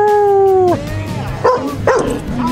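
A one-year-old dog at the Deep Ellum Arts Festival lets out a loud, close, drawn-out whining yelp, then two sharper barks in quick succession amid outdoor crowd noise.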